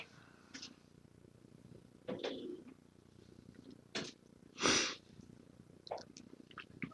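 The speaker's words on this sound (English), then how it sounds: "Can you hear her? She is such a beggar. Now the cat's getting treats" A begging cat makes short sniffs, snorts and a sneeze-like burst, scattered across a quiet room at close range, with soft purring underneath.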